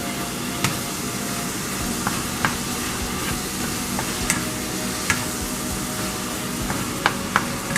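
Turkey coated with browning being mixed in a hot pan, a constant loud sizzle broken by sharp occasional clicks and taps of the utensil against the pan.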